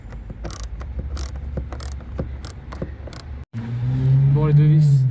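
A ratchet with an extension backs out bolts on a truck, giving a run of sharp, evenly spaced clicks. A louder mechanical whirring follows at close range, with faint talk at times.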